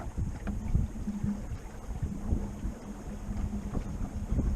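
A sailboat under way in cold weather, with water rushing and slapping against the hull and steady wind buffeting the microphone, close and continuous without speech.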